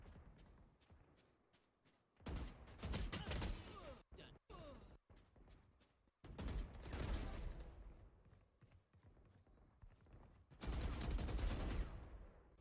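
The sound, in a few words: gunfire in a first-person shooter video game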